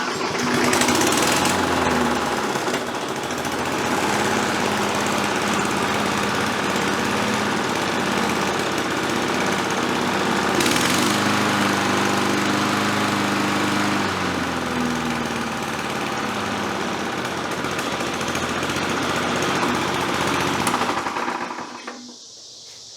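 A Murray push lawn mower with a Tecumseh engine and a throttle runs loud and close, holding a steady buzzing drone for around twenty seconds before cutting out abruptly at the end.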